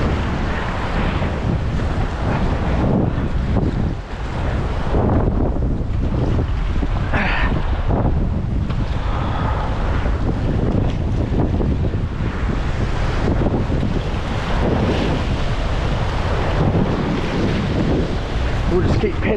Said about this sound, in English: Wind's coming from the south.